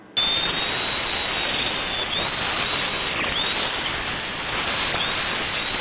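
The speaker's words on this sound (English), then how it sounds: "We're going to get a grinding stone and actually make this smooth." A grinding stone smoothing metal spoon fishing lures gives a loud, continuous abrasive hiss with a high whine that dips and recovers as the piece is pressed, starting abruptly and running steadily without pause.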